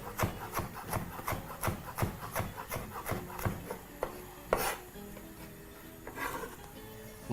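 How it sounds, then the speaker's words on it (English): A knife finely chops chillies, seeds included, on a board for a homemade chili sauce. The cuts come as quick, regular knocks, then slow to a few scattered chops, close and moderately loud. "And just proceed to chop that finely."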